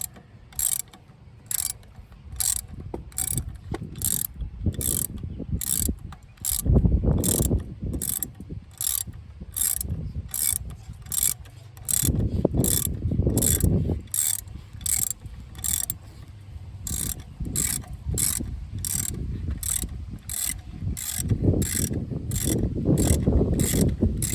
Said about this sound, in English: I'm just putting them in the rest of the way with the ratchet.